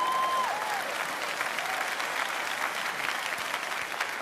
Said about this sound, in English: That's a good clapping point right there.